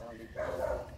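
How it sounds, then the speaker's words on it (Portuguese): A dog barks outdoors in a rural backyard, a short bark heard over a faint background. "Ah, a Sueli já tá latindo ali já."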